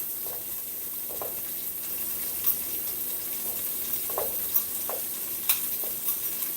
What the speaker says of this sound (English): So while the onions are sauteing, and then I'm going to add the celery.